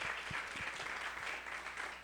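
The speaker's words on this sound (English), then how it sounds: "thank you so much for that applause" Steady applause from an audience welcoming a former Miami police chief to the stage at a civics academy event, a dense wash of clapping that carries on evenly throughout with no voices over it.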